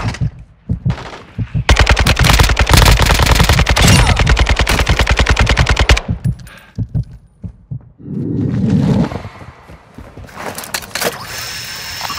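Machine gun fire in Call of Duty Warzone DMZ rattles in a long, loud, rapid burst lasting several seconds, followed by scattered single shots and other heavy game noise, close and dominant.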